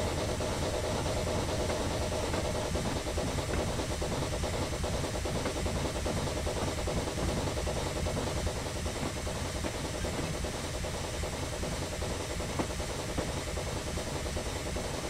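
A small steam locomotive in Train Simulator 2015 on the Isle of Wight, the engine Invincible, works uphill hauling coaches, a steady loud chuffing rumble and hiss continuing unbroken throughout with no voices.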